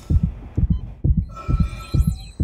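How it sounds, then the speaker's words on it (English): In the horror game Dead Space 3, a heavy heartbeat pounds in steady double thumps, roughly one pair per half second, loud and close, with a faint electronic tone rising and sweeping in the background partway through. "I hate this heartbeat sound."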